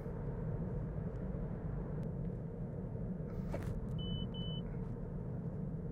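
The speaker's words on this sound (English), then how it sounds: "Oh, little beep there, letting me know that there's a speed camera ahead." Inside a 2021 Toyota Corolla GR Sport Hybrid on the road, a short pair of high, thin warning beeps sounds for a speed camera ahead, clear over the steady low rumble of the cabin and road noise.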